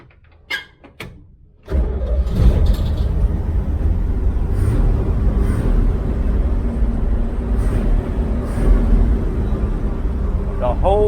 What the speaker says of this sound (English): this will be the first time I start it up with the engine cover